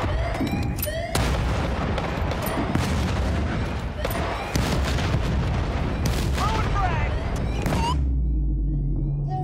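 Hand grenade blast and surrounding battle noise in Battlefield: Bad Company, with loud continuous booms, rumbling and scattered gunfire, plus whistling effects and a heavy low thump near the end.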